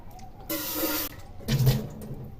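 Water gushes out in two short, close bursts as soaked dried radish greens are squeezed firmly by hand, each splatter lasting about half a second with a brief pause between.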